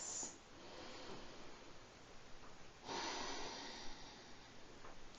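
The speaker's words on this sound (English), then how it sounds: "Just take a couple of breaths, slow, meaningful breaths" Slow, deep breathing during a yoga session, with soft drawn-out inhales and exhales rising and falling in a quiet room, close and gentle, with no talk.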